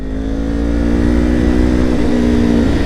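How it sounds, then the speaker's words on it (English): Motorcycle engine revving close and loud while upshifting, a steady droning rev that dips briefly in pitch near the end as the gear changes. "How to upshift the motorcycle."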